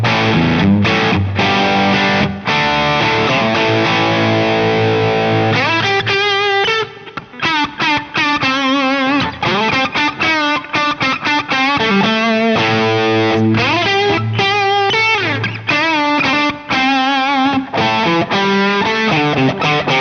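Electric guitar played through a Boss DS-1W or SD-1W pedal in custom mode, giving a loud, sustained distorted tone with chords and single-note runs, alone without talk.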